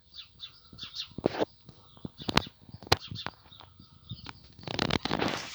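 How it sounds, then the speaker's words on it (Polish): Parrots in a garden aviary give repeated sharp chirps and squawks at close range, with busy bursts of calls scattered throughout and a denser flurry near the end. "Papugi ćwierkają."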